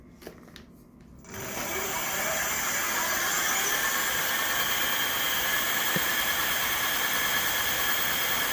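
A 1500-watt rear hub motor on a 26x4 fat tire electric bike spins up after a brief quiet start, settling into a steady, loud whine with a high tonal hum that holds evenly to the end.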